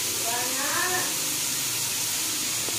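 Chicken and vegetables frying in a pan with pink salt for a keto dinner, giving a steady close sizzle and hiss throughout, with a voice briefly audible over it early on.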